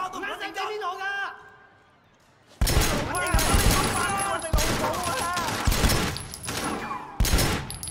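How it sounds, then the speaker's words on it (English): Rapid bursts of gunfire in the Sleeping Dogs video game erupt loudly after a short quiet spell, with repeated shots and volleys continuing to the end. A voice talks briefly before the shooting starts. "I've hit no one in those last like 8 shots."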